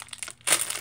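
A resealable plastic package of squishy toys is pulled open: faint rustles at first, then a louder burst of crinkling and tearing plastic close by.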